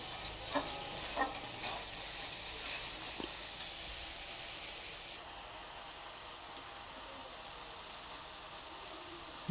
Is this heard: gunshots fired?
no